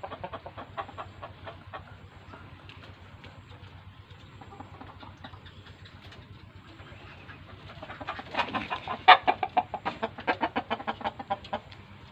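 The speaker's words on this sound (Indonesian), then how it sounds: "Di sini kita ternak ayam." Chickens cluck on a farm where hens are raised for eggs, with soft steady clucking throughout that swells into louder, busier clucking near the end, close and without talk.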